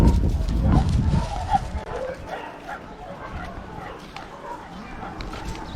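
Several excited dogs at an animal shelter on Reunion Island bark and yip in short irregular bursts, loudest at the start and then easing to scattered nearby barks over murmuring voices.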